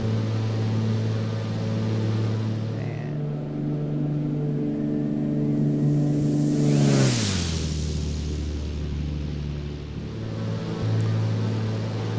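An aircraft engine in the X-Plane 11 flight simulator drones steadily during the climb, with a strong tonal hum that sweeps downward partway through as power and propeller settings change, then holds a lower steady note.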